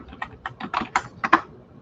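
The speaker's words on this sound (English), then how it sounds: "I think I'm going to type it in." Quick typing on a computer keyboard, a run of about eight close, distinct key clicks in an uneven rhythm, with no talk.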